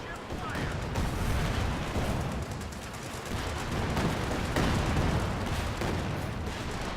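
Booming artillery and rattling gunfire from a Company of Heroes 2 battle play continuously, with dense overlapping blasts filling the scene, while a voice talks over the din.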